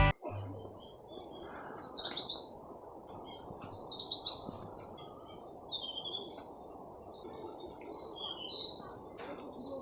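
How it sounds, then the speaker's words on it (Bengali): Forest birds along the Pareshnath trek trail sing in repeated bright bursts of chirps and tweets, fairly close and clear above a quiet background, with no voices. "সুন্দর পাখির আওয়াজ।"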